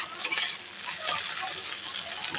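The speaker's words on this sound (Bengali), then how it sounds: "আমি এটা ভালো করে একটু নেড়ে নেব।" A spatula stirs fried egg with carrot and onion in a hot pan, giving a steady soft sizzle with scraping strokes and a few light clinks against the pan, close by, with no talking.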